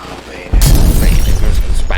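A sudden loud bang of fireworks going off, a sharp, close boom followed by a dense, crackling rumble that carries on for about a second and a half.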